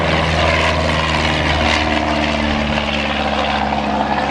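An AT6 propeller airplane in flight, its radial engine droning loud and steady with a constant pulsing throb and heavy wind rush, continuous with no voices.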